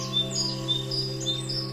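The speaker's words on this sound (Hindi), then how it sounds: "कई सारे पक्षी" Several birds chirp and whistle in repeated short high calls over a steady low hum in the Aravalli hills, fairly faint and with no talk.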